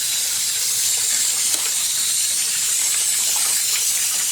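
Water sprays in a steady, loud hiss over the engine of a 1976 GMC Sprint, rinsing it off up close with no break and no talking.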